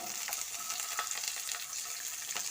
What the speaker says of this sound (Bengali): এবার এর মধ্যে দিয়ে দিচ্ছি কুচি রাখা পেঁয়াজ আর দিয়ে দিচ্ছি কুচনো ক্যাপসিকামটা